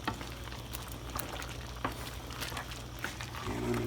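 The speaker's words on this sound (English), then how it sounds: "And just stir it up a little bit." Zucchini and yellow squash Creole gets stirred in a big pot, with soft scraping and clinking of the spoon over a low simmering sizzle, a few sharper knocks, and a gentle bubbling rise at the end.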